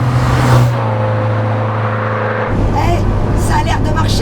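A Renault 5 GT Turbo engine droning steadily while driven on a track, heard from inside the car, with the pitch shifting midway, as occupants talk over it.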